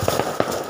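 Several sharp pops, from gunshots or firecrackers going off outside, crack in quick succession, short and fairly loud against a noisy outdoor background.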